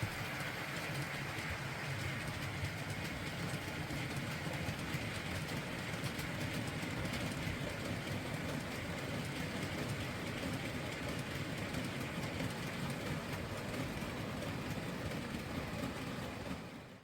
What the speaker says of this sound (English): especially having that freight train running around.